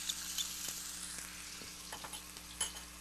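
Garlic sautéing in hot olive oil in a pan, a steady close sizzle with a few soft clinks and stirring scrapes, no voices over it.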